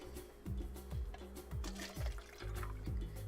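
Dirty gouache paint water poured out of a bowl in a series of gurgling, splashing glugs, fairly quiet and close, with no talking.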